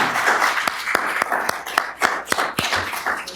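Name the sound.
audience applause for candidates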